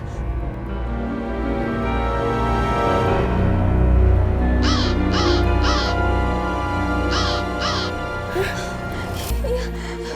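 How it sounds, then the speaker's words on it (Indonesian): Repeated harsh crow caws come in two clusters of calls, then one more pair, over a bed of music and a brief voice. "Itu mah burung gagak biasa."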